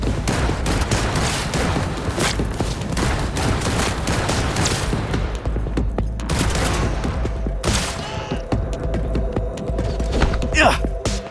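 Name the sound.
shotgun gunfire in Cyberpunk 2077 video game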